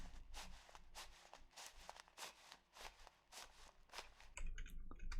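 Footsteps in a co-op dungeon crawler video game, a steady run of crunchy, evenly spaced steps at moderate level with no one talking.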